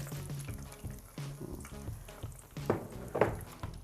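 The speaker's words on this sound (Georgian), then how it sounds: "ნახოთ ხახვი, რომელიც უკვე კარგად დაიბრაცა" Onion frying in a pan, a steady soft sizzle with faint stirring scrapes and a couple of small clinks, fairly quiet and close, with no voices.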